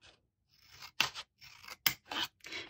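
Scissors snip a mitred corner off a card envelope flap in a craft session: several short, crisp cutting strokes at close range, separated by brief pauses.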